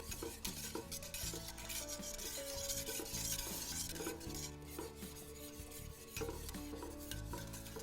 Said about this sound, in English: It's important to continue stirring